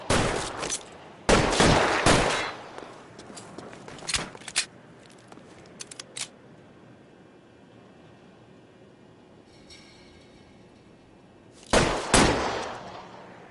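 Gunfire in L.A. Noire, a crime video game set in 1940s Los Angeles: loud bursts of shots near the start, a few scattered single reports, a quiet stretch, then another heavy burst near the end.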